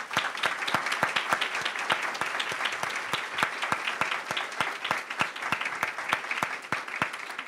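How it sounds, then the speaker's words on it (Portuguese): An audience claps in applause, with sharp, evenly spaced individual claps standing out over a steady bed of moderate clapping that continues throughout. "pedir uma salva de palmas para eles"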